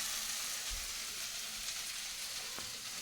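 Food sizzles steadily in a pan, a quiet, continuous frying hiss with a soft knock or two, no voices.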